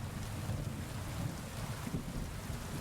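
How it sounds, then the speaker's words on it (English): Rain falls on a city street as a steady, even hiss with a low rumbling undertone, continuous and fairly quiet throughout, with no voices. "The quiet sound of the rainy street remains outside"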